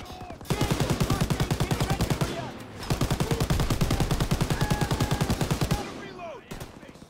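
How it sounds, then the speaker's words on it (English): Machine-gun fire in the Call of Duty: WW2 campaign, Push to Paris mission: loud, rapid automatic bursts, one long burst, a brief pause, then another sustained burst that stops, with a few scattered sounds after. "Damn, bro, that gun overheated."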